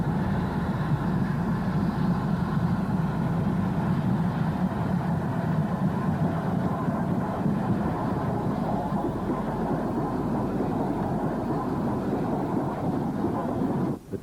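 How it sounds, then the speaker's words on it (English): A double-headed steam special creeps into Banbury from the south behind an ex-Southern Railway T9 class pilot engine and a U-class locomotive, producing a steady, heavy rumble that holds close and loud throughout, with no talking. "A double-headed special creeps into Banbury from the south."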